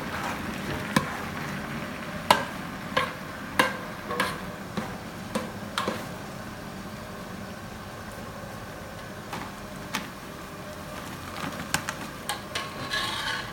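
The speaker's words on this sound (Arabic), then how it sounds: "حط طحين ونقلب" A spoon stirs flour into a pot while French onion soup is being made. Steady rubbing scrapes run with sharp little ticks against the pot at an uneven but fairly regular pace, close and moderately loud.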